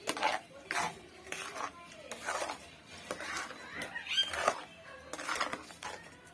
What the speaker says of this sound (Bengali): এটিকে ভালোভাবে আমি নেড়ে নিচ্ছি